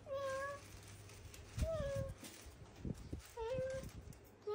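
A young child imitates a cat, giving several drawn-out high meows with short gaps between them, close and fairly loud, alongside some handling noise and brief adult speech.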